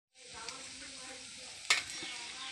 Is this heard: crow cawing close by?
no